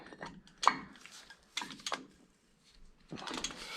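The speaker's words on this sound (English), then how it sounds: "we're going to torque that down to 50 foot-pounds" Socket and ratchet clicks come from a torque wrench tightening a bolt to 50 foot-pounds on an LMTV wheel hub, heard as close, quiet bursts of rapid ticking separated by pauses.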